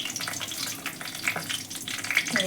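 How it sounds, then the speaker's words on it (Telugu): Shahjeera, bay leaves and star anise sizzle in hot oil for an Andhra chicken fry curry. The crackling frying is steady and close, with small bubbling pops throughout and no voice. "నూనె కాగిన తర్వాత ఒక 1/4 టీ స్పూను షాజీరా వేస్తున్నాం, 2 బిర్యానీ ఆకులు, ఒక స్టార్ పువ్వు"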